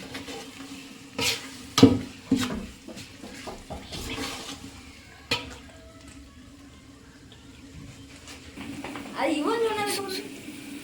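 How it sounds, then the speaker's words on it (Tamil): Veg biryani masala being stirred in a pot over a wood-fired stove after salt goes in, with scraping strokes and soft sizzling, a few louder clatters of the spoon, and talk heard alongside. "தேவைக்கேற்ப உப்பு தேவைக்கேற்ப சேர்த்து கிளறவும்"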